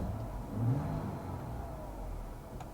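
A 2025 Ford Ranger Raptor with its exhaust in quiet mode gives one muted rev that rises briefly and falls back to a low, steady engine rumble, fairly faint, with no voices.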